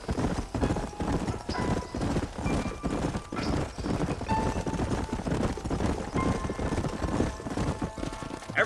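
Horses galloping in the video game Red Dead Redemption, a steady, dense clip-clop of hooves from several animals, close and loud throughout, with faint voices underneath.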